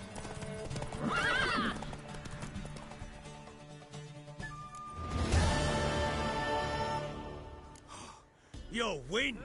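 In The Witcher 3, a galloping horse's hooves drum loudly and a mare lets out clear whinnies and a snort, amid music and character voices, the race ending with shrill neighing.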